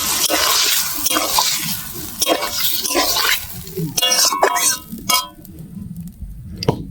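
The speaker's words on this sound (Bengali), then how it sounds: "এবার বাটনা বেটে রাখা পর যে শিল ধোয়া জলটা দিয়ে দেবো।" Water from rinsing a stone grinding slab poured into a cooking pan of prawn curry, a continuous splashing gush with clinks, fading out near the end.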